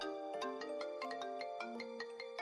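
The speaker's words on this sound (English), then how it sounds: "The phone rang." A phone rings repeatedly in a quiet indoor hallway, a bright electronic ringtone melody with steady rhythmic pulses, fairly clear and alone with no talking.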